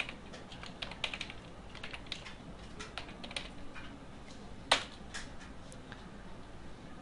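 PHP code is typed on a computer keyboard as a quiet, steady run of key clicks, with one sharper keystroke standing out.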